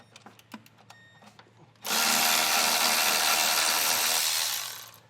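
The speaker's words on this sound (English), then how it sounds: "we're going to get these 12mm bolts taken down" A power tool drives out 12mm bolts from the isolator hanger of a 2025 Toyota Camry during a trailer hitch install. After a few light clicks and taps, a loud, steady, close whir runs for about three seconds, then fades.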